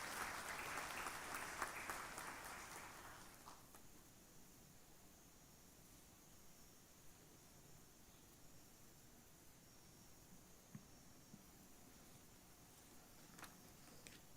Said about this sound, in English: a round of applause to the Minister